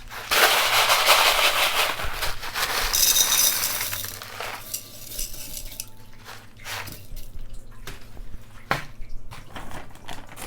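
Drainage material being poured into a plant pot while repotting a Calathea, a loud rushing, rattling pour for a few seconds that tapers into scattered clicks and small taps of pieces settling, close by, no talking.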